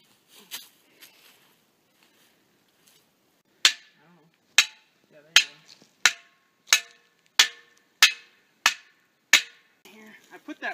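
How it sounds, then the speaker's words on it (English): A hammer strikes a rock in the ground about nine times at an even pace, each blow a sharp crack with a quick ring. A few faint sounds come first. "Grab a hammer."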